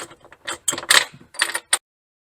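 A hand wrench tightens bolts on a Worksport AL4 flip-up hard tonneau cover, giving a quick series of metallic clicks and scraping ratchet-like bursts, close-up and uneven, ending abruptly.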